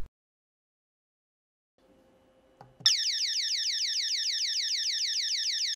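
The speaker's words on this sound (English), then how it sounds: "By pressing the panic button on the emergency remote control, you will trigger an acoustic alarm as a deterrent." A Protect security system alarm, set off by the panic button on its emergency remote control, starts after a few faint clicks and blares a loud, continuous warbling siren that repeats in fast, even cycles.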